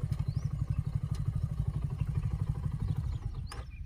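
A heavy Suzuki V-Strom motorcycle creeps along slowly in first gear, its engine giving a steady low, throbbing rumble close by that holds throughout and eases slightly at the very end.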